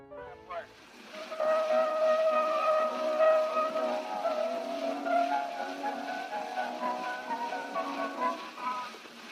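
Whistling from an 1890s phonograph recording of a song plays through heavy surface hiss, a thin, sustained melodic line that starts after a brief pause and carries on steadily to the end.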